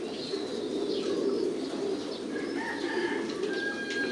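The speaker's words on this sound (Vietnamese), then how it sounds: "Đây là những cặp bồ câu Titan Thái vừa mới được nhập về các bạn nhé." Thai Titan pigeons cooing at a large pigeon farm, a steady low murmur of many birds with scattered chirps over a continuous background.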